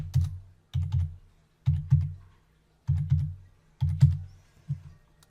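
Credit card details are typed on a computer keyboard in six short bursts of rapid, close keystrokes, with brief pauses between them.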